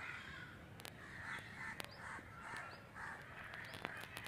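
Crows caw repeatedly at Sanjay Gandhi Jaivik Udyan, the Patna zoo, with about six harsh calls spaced roughly half a second apart at moderate distance over a steady outdoor background hum.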